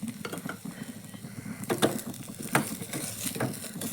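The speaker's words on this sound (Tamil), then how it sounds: "இந்த சமயத்துலேயே நம்ம வேக வச்சுருக்க கிழங்கையும் சேர்த்து நல்லா கலந்துக்கலாம்." Boiled potatoes are stirred into a hot pan with oil, giving a close, steady sizzle broken by repeated scraping strokes of a utensil against the pan.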